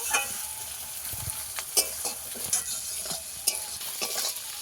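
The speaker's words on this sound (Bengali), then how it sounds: "পেঁয়াজটাকে আমি একদম লাল লাল করে একটু ভেজে নেব।" Onions sizzle steadily in a hot pan while a utensil stirs and scrapes through them, with sharp irregular clinks and scrapes over the continuous frying hiss, close by and without talk.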